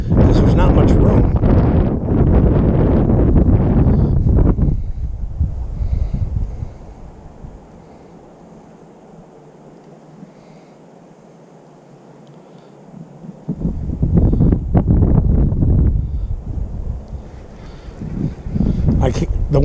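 Strong wind buffeting an outdoor microphone while fishing from a tight, cramped casting spot, loud gusty roaring bursts at the start and end with a calmer stretch in the middle.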